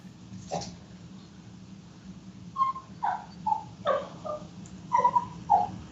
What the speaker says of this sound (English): Bob, you got a dog over there?